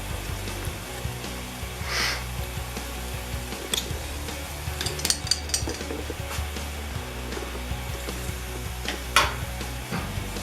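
Potato pieces fry in a pan with a steady, low sizzle, broken by clattering stirs and scrapes of a utensil against the pan.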